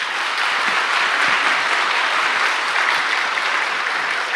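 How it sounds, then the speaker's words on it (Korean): A church congregation applauding together during a Wednesday worship service, steady dense clapping that fills the room evenly from start to finish with no talk over it. "우리 하나님께 영광의 박수 달립시다."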